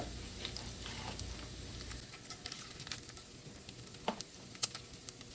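Onions sizzle in bacon grease in a skillet, a soft steady crackle with scattered sharper pops and occasional stirring scrapes, fairly quiet throughout.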